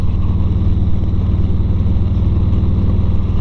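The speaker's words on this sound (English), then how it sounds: "and you ride a crotch rocket" A sport motorcycle engine runs loud and close with a steady, throbbing low drone that holds an even pitch rather than rising in revs.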